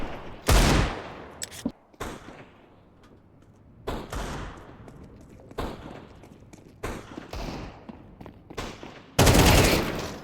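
Gunfire in the video game Counter-Strike 2: several loud bursts and single shots scattered over ten seconds, with some close and harsh and others quieter, separated by gaps of low game ambience.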